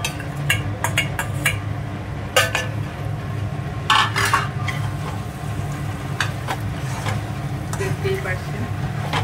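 Marinated chicken is stirred into a cooked-down spice masala for Bengali-style chicken kosha, with steady sizzling frying and repeated scrapes and clinks of a metal spoon against the pan, under a talking voice.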